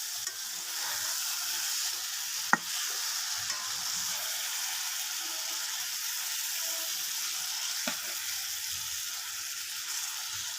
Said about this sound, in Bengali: এখন আমি আলু আর মাংসগুলোকে মিক্স করে দেবো।